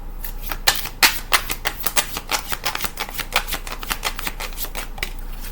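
Oracle cards being shuffled by hand in a steady run of crisp riffling flicks, close and fairly loud, with no talking.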